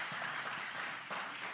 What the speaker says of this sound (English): Give me a round of applause if you're enjoying the pizza